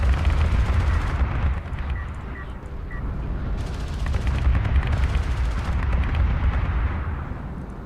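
Gunship firing in Homeworld: Deserts of Kharak, heavy rumbling volleys of gunfire and booms in repeated bursts, loud and steady throughout with no talk.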